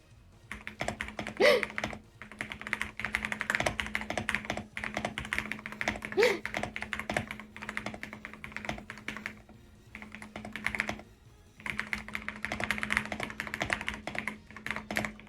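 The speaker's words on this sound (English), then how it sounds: "Typing up a storm for it." Rapid typing on a computer keyboard, close and busy, arriving in long bursts of key clatter separated by short pauses, with a faint steady hum underneath.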